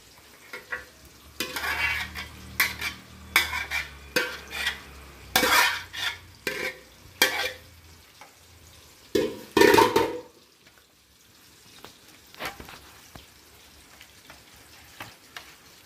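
Paneer frying in a pan for a catering order, bursts of sizzling and spatula scrapes and clinks in the first ten seconds, then quieter occasional taps and faint sizzle.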